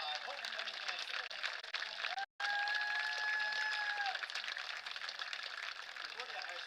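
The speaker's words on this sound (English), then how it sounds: "let's give a round of applause to our 2025 homecoming candidate" Applause and crowd noise for homecoming candidates at a high school football game, a steady broad wash of clapping from a stadium crowd, briefly cut by a gap, with a long tone from the PA sounding over it.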